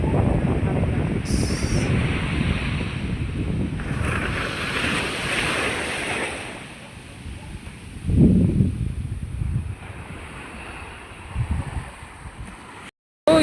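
Wind buffets the microphone in gusts over the wash of surf nearby, rising and falling, with a brief cut near the end.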